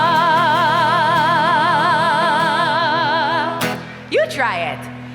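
A shofar sounds a long tekiah blast at a Rosh Hashanah family service, a loud steady wavering tone held for about three and a half seconds before breaking off, followed by brief voices.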